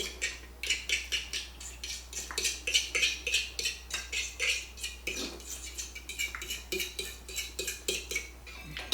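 A utensil briskly whisks egg and a splash of milk in a dish, giving quick rhythmic clinks and scrapes against the sides, close and steady throughout with no talking.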